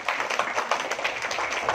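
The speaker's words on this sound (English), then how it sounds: "Give a very good clap." An audience applauds at a school award ceremony as a bronze medalist, a Silambam champion, is called up, giving steady, dense clapping at moderate distance with no talk over it.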